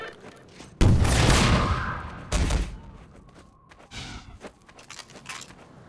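Rocket launcher fire in the video game Half-Life 2: Lost Coast: a sudden heavy blast erupts and rumbles off, a second sharp boom follows, then quieter scattered combat thuds.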